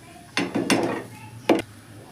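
A metal lid set onto a cooking pot of salted hilsa fish chachchari, two or three close clanks and scrapes of metal against metal, then a final knock.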